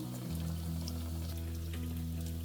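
Pieces of yeast dough for krebli fry in hot oil, giving a steady, dense sizzling and bubbling hiss close up over a constant low hum, with no speech.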